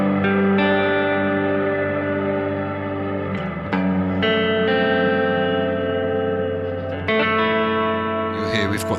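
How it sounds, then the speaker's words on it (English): An electric guitar runs through a delay feeding a fully wet double tank reverb on a Line6 HX Effects unit, paired with a BOSS GT1000. Sustained chords ring out with long, washy echo tails, and fresh strums land around three and seven seconds. "we end up with a delay feeding into a reverb completely wet and just keeping my reverb rolling on the GT1000 whilst having the double tank"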